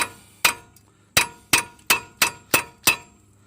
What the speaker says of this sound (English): I'm going to take my hammer and kind of hit this a little bit.